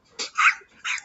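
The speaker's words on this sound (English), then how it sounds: "She was barking when I was putting the thing over my head" A dog barks and yips in short, sharp bursts, one near the start, a stronger one in the middle and another toward the end, loud and close with no talk over it.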